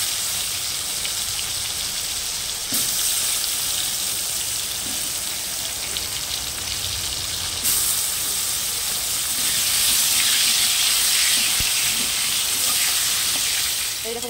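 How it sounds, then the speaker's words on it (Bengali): Potatoes fry in hot oil with a steady, dense hiss and sizzle, close and fairly loud, swelling in intensity partway through; heavy rain may be falling outside during cooking. "আমি এখন আলু ভেজে নেব"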